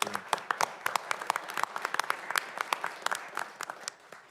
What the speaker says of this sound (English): I think we need an applause.